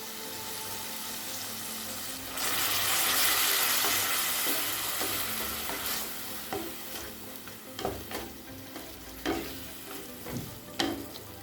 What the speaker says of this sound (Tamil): இப்போ மிளகாய்த்தூள் வாசனை போக 1 நிமிஷம் வரைக்கும் நல்லா வதக்கியாச்சுங்க